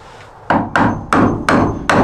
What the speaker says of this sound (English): Let me get the chisel out.